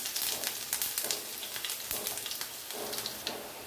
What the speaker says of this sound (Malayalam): നമുക്കതിലേക്ക് കുറച്ച് ഇഞ്ചി വെളുത്തുള്ളി ചെറുതായിട്ട് അരിഞ്ഞ് വെച്ചിരിക്കുന്നത് നമുക്കിട്ട് കൊടുക്കാം.